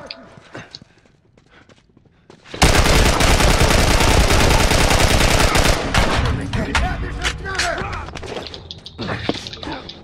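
Rapid bursts of gunfire in The Last of Us erupt suddenly after a quiet stretch, a dense, loud rattle of shots lasting several seconds before tapering into scattered, fainter noises.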